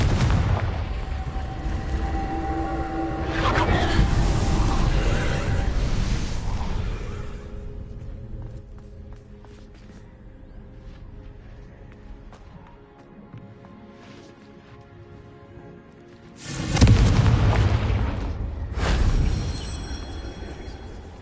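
Fiery spell blasts in the Hogwarts Legacy video game, a whooshing burst of flame and explosion early, a quieter stretch, then another loud blast near the end, with faint game ambience between.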